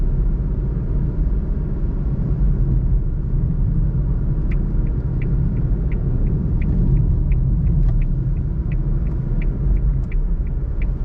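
A 2021 Suzuki Alto VXR/VXL with a 660cc engine drives in fourth gear, heard from inside as a steady low engine and road rumble with faint, regular ticking in the second half.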